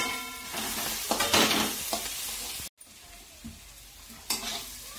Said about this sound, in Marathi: मिरच्या, कोथिंबीर, कांदा परतायचं चालू होतं